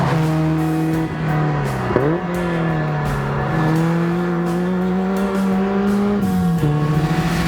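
A Suzuki Swift 1300 GTi with its TwinCam engine driving hard on a track, loud and close, the engine note rising and falling through gear changes and revs with no talk over it.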